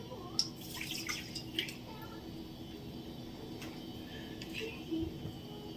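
Sugar and water poured into a pan to make syrup for candied orange peel: small, close splashes and drips of liquid come in short bursts over a quiet kitchen background, without speech.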